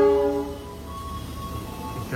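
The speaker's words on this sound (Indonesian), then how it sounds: "3 kereta sekaligus." Three trains, Mutiara Selatan and Kahuripan economy services, pass at once at a station at night: a steady horn-like tone opens, then a low rolling rumble continues at moderate volume.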